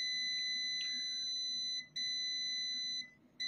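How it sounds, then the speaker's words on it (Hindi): Continuity beep from a multimeter probing a shorted IC on an EDC17C55 engine control module from a Tata truck: a steady high-pitched electronic tone holding for several seconds, dropping out twice briefly, over a low background hum. "अभी ये बीप आई"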